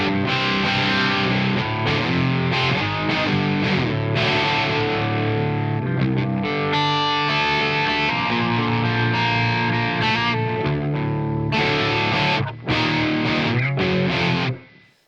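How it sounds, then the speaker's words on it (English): Electric guitar played through a stereo pedalboard with distortion, reverb, delay and modulation: thick, saturated chords and sustained notes ring out loud and wide, stopping briefly and dying away at the end. "So I get the reverb and the delay and the modulation behind the distortion effect."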